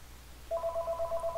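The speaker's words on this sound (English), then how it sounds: "sorry about the phone call right there" A telephone starts ringing partway through with a pulsing electronic tone that repeats quickly and evenly, clear and moderately loud over a quiet room hum.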